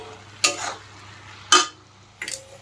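Ash gourd cooks in a pan on a home stove. Three separate scraping stirs of a spatula against the pan sound close over a soft steady sizzle.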